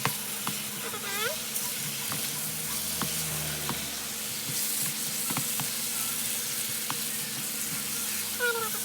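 Tongkol tuna fish sizzles and fries in a pan with red chili and tomato, a constant crackling hiss broken by scraping spatula strokes as the pieces are spread out, close up.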